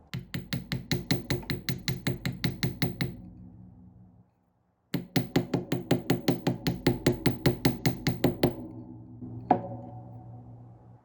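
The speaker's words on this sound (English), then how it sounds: "I'm going to hammer a tiny bit more on that part." Quick bursts of metallic hammer taps on copper wire for earrings in an even rhythm, a silent gap between two runs, then a single final knock.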